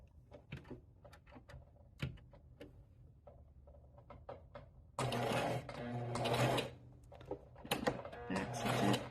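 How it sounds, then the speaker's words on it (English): A home sewing machine runs a straight stitch on bunny pattern fabric, first a few scattered clicks and taps, then loud close bursts of rapid mechanical whirring in two or three runs. "And so we're gonna sew, and then I'll do a little back stitch"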